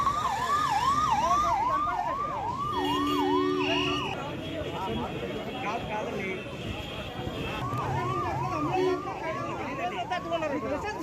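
Several fire engine sirens wail together in repeated rising and falling sweeps, some close and loud, others farther off, at the scene of a fire, with a voice talking over them.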